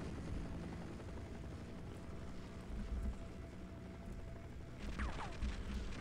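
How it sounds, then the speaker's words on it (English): A helicopter in the game Half-Life hovers with a steady, faint rotor drone, joined near the end by a couple of brief higher whines. "the helicopter will still shoot at me"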